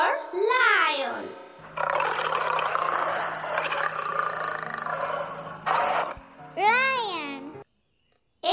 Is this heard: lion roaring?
yes